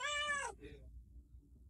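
A cat at a feeding program lets out one loud, close, drawn-out meow that breaks off after about half a second, leaving near silence.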